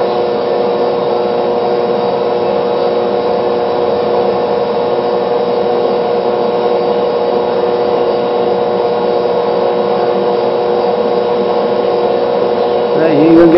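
An HHO generator machine running with a steady, loud electrical hum and whine that holds constant throughout, with a faint change at the very end.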